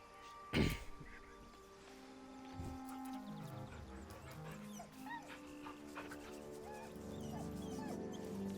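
A dog in Baldur's Gate 3 gives a sharp close bark, then whimpers and yips in soft rising whines that continue over a low musical background.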